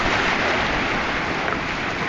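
Waves slap and rush against a small boat out on open water, a steady broadband wash of surf with wind buffeting the microphone throughout, close and continuous with no voices.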